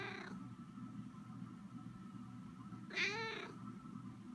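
A house cat lets out a single short meow partway through, fairly close, over a steady low rumble of background room noise.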